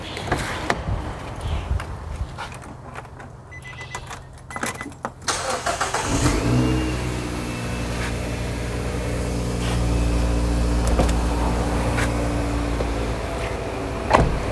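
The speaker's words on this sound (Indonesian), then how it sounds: "mobil ini baru dinyalakan" A car engine cranks and starts about six seconds in, then settles into a steady, fairly fast idle; engine parts were recently replaced. Before the start, only faint clicks and handling noises are heard, with no talk.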